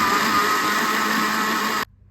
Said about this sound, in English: Then I'm going to blend.